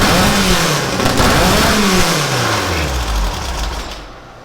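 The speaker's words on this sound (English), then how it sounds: "This motor sounds a little angry. Yeah, it's rowdy." A free dune buggy's motor with trashed carburetors revs rough and rowdy, its pitch rising and falling in uneven surges, loud and close with no talking.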